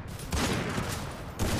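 Rapid bursts of gunfire, two loud volleys with a brief pause between, harsh and close.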